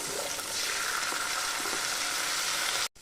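Tomato sauce sizzling loudly in a hot pan for chilli fish, a dense continuous frying hiss up close that cuts off abruptly at the end.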